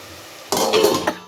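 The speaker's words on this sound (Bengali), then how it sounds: "ঢাকনা দিয়ে দিলাম কিছুক্ষণের জন্য" Metal lid set down on a cooking pot while a Bengali curry of taro stolons with garlic paste simmers, a single clattering knock with a short rattle, close and fairly loud against quiet kitchen background.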